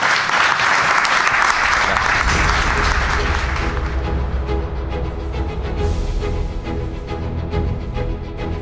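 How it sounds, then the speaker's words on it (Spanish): An audience applauds a guest at the end of a broadcast segment, a loud burst of clapping that thins after a couple of seconds as music and a voice come in beneath the fading claps. "Un aplauso para Diego, por favor"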